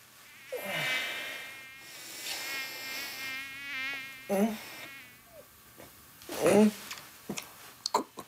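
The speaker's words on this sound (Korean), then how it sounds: "아, 모기가 있나?" A mosquito whines close by in a quiet bedroom, its thin buzzing drone rising and wavering over several seconds, with a few short vocal sounds and rustles interrupting near the end.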